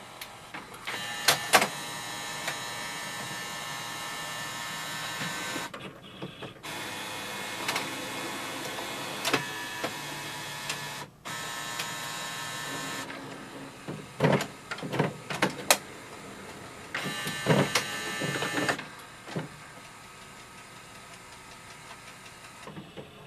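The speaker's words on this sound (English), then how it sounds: "it has successfully scanned and transferred the image here" An HP OfficeJet Pro 9023 printer scans a page with a steady whirring drive that stops and restarts in several long passes, broken by sharp mechanical clicks and clunks, close by with no voices.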